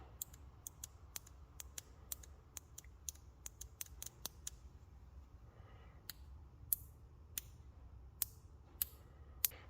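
New replacement switch in a Thrustmaster Warthog HOTAS throttle clicking, with sharp, crisp clicks heard close and alone over a faint low hum, irregular and several per second at first, then sparser.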